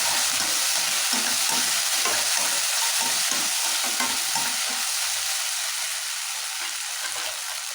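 Chicken manchurian sizzles steadily in a hot pan as tomato sauce is worked in, with a spoon scraping and stirring in irregular bursts over a constant frying hiss; nearby and fairly loud, no voices.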